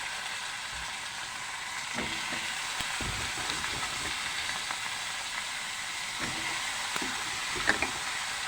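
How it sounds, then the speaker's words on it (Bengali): Potatoes and vegetable stems frying in a pan, a soft, steady hiss of sizzling oil with occasional faint clicks and scrapes of a utensil, moderately quiet and without talk. "এখন ডাটা আলুগুলো দিয়ে একটু ভাজা করতে হবে"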